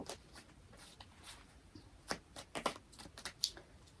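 A deck of tarot cards is shuffled nearby in soft, irregular riffles and flicks, faint and papery, with small bursts clustered toward the end.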